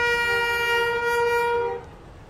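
A 40-wagon ballast freight train pulls into a long-disused country station, its horn sounding one long, steady, loud blast for nearly two seconds before cutting off to quieter rumbling.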